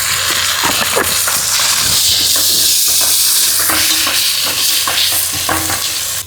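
Ginger paste fries loudly in hot oil in a pan over fried onions, a continuous close sizzle broken by scraping stirs of the spoon.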